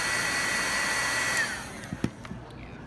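A heat tool blows with a steady whirring hum while warming a small piece of Thibra thermoplastic for a rhinestone setting, then switches off, leaving a few faint clicks and taps.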